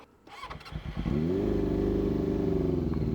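A Honda CB400 SuperFour Hyper VTEC Spec III motorcycle cranks and starts after a brief clatter, then settles into a loud, close, steady four-cylinder idle with an even, throbbing pulse.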